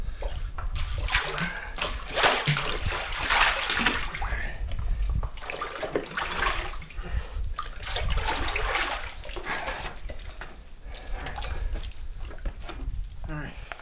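Water splashing and sloshing as it is collected from a cold, murky pool in a Canyonlands canyon while backpacking, with close gurgling and dripping and a person talking over it.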